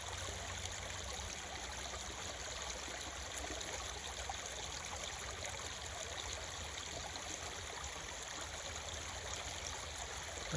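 A natural stream of flowing water trickles and gurgles steadily, a soft, even wash with no talking.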